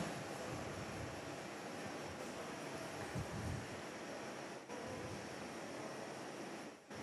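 Airliner landing on runway 21 at Perth airport, a broad steady engine roar heard from a distance with constant rushing noise, fading slightly at the end.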